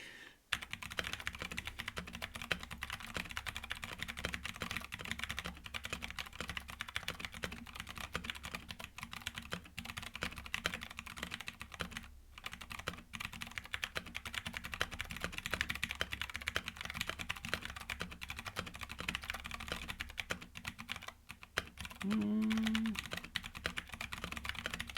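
Steady keyboard typing during a typing test, a continuous dense patter of keystrokes close to the microphone running the whole way through, with a brief faint tone near the end.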